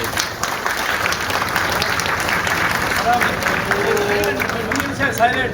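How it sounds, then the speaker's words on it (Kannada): Crowd applauding in approval at a Dharma protection rally of Dharmasthala devotees in Kundapura, a dense, steady wash of clapping lasting throughout with murmuring voices underneath. "ಎಲ್ಲ ಚಪ್ಪಾಳೆ ಹೊಡೆದ ಮೂಲಕ ಅದಕ್ಕೆ ಸಮ್ಮತಿ ಹೋಗ್ತದೆ."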